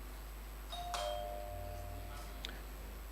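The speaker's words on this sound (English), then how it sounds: "Now you are supposed to indicate your readiness by ringing a bell. Let me hear the bell from UEW." Single bell rung by a contestant at a university business quiz competition, a bright ding with a sustained ringing tone, followed by a second, fainter strike a moment later, over a quiet room.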